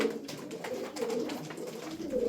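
Adana pigeons coo in soft repeated low calls close by, several overlapping throaty coos over a few seconds with no talk.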